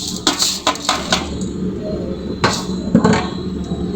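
Rice is tipped into a pot of boiling salted water, giving clattering metallic knocks and clinks from pot and utensil, several sharp hits in quick succession, then a pause before a few more knocks.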